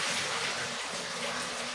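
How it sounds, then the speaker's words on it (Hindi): Water from boiled rice is poured off and drained, a steady broadband gushing splash close by with no talking. "चावल जो है अच्छी तरह पानी निकाल लेंगे सारा"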